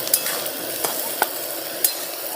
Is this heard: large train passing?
no